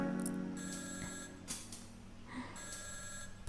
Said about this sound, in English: His desk phone rang.